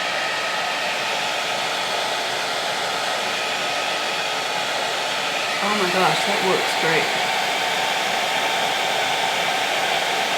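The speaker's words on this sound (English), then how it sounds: "I'm gonna actually have a blow dryer right here." Steady close hair dryer blowing continuously on eyebrows set with clear brow gel, with a brief voice speaking over the whir partway through.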